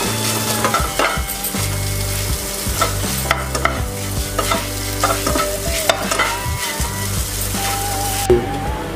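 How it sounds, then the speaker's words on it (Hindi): Moong dal kachori spice filling roasting in a pan on a stove, loud continuous sizzle with repeated scraping stirs of a spoon against the metal. "सब चीज को हम डालकर अच्छा तरह से भून लेते हैं।"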